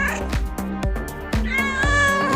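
A cat meows several times in quick succession, close and loud, with short repeated harmonic calls and a longer drawn-out meow at the end.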